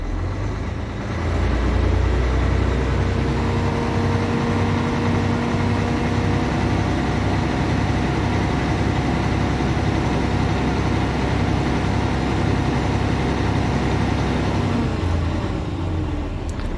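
A heavy diesel truck engine, freshly repaired and being run in, idles steadily at about 600 rpm, a deep even rumble with a faint hum, continuous and close throughout.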